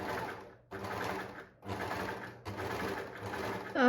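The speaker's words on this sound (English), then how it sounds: "I'm gonna overlock it, and then we can create the channel and do the same for the back" An overlocker sergeing the seam of a mesh stretch dress runs in four rapid whirring bursts separated by brief pauses, close and fairly loud with no talking.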